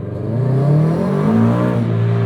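A supercharged 2013 Scion FR-S fitted with an HKS centrifugal supercharger revs up with a rising whirring engine note, loud and close, held for about two seconds with no talking.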